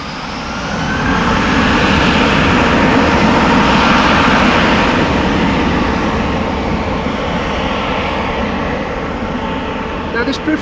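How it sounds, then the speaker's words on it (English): A 15-year-old Airbus A321 airliner in a privileged-style livery roars at Amsterdam Schiphol Airport, its jet engine noise swelling to a loud broadband rumble that holds steady and then slowly fades. "Now this privileged style A321 is 15 years old already and began flying in September 2008"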